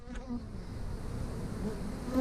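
Honey bees buzzing in a comb cutout from the floor of a second story, a faint, steady drone with some higher whining passes, no talking.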